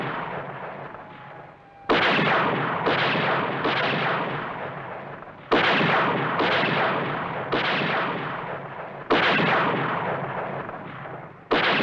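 Heavy booming gunshots crash out in a cartoon shootout, about eight loud blasts in uneven bursts, each ringing into a long decaying echo, with no talking.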